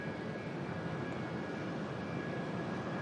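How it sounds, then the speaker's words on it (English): CFM56 engines on a Jet2 Boeing 737 run in the test bay at Manchester Airport, a steady distant broadband roar with a faint high whine, unbroken and without talk. "Loud noises from the CF-56s on that Jet 2"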